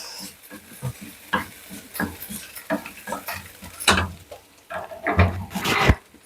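Onions frying for chicken wings are stirred in a pan, giving irregular scraping and clattering strokes over a soft sizzle, close up, with a few louder knocks of the utensil against the pan near the end.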